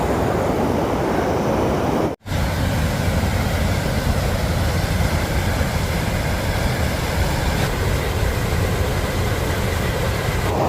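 Waterfall near Loch Lomond in Scotland, swollen after heavy rain, a loud, constant broadband roar of rushing water with no pauses, broken only by a momentary dropout early on.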